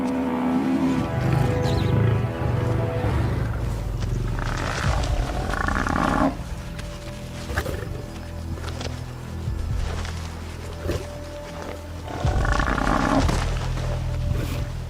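Deep, rumbling lion roars and growls as a pride wrestles a buffalo bull to the ground, loud and close, coming in several heavy bursts with scuffling between.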